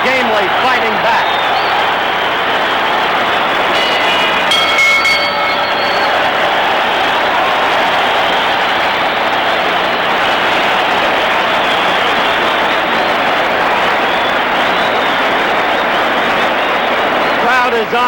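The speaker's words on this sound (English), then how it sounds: "The crowd is on its feet and cheering." Spectators at a George Foreman versus Gregorio Peralta boxing match stand and cheer in a loud, continuous roar of crowd noise with scattered applause. A commentator talks over it at first.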